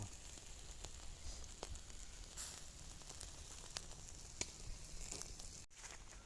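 Meat sizzling over a campfire outdoors, a quiet continuous hiss broken by scattered sharp crackles and pops, heard close and alone.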